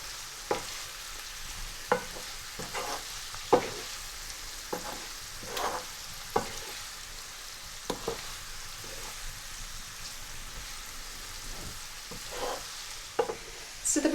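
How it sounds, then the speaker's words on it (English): Potatoes stirred with spices in a pan for Punjabi achari aloo, giving a soft continuous scraping and light sizzle with regular louder clinks of the spoon against the pan, close and steady, no talking. "Now we're just going to stir those together and make sure all the potatoes are coated."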